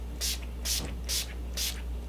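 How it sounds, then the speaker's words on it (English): Four short, hissing bursts of makeup setting spray, evenly spaced about half a second apart, close by over a low steady hum. "Let's go ahead and spray and set my face."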